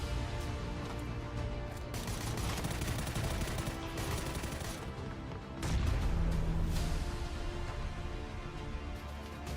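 Rapid bursts of SMG fire in a shooter video game, dense and loud, rattling almost continuously, with a heavier surge partway through and other gunfire and explosions layered behind.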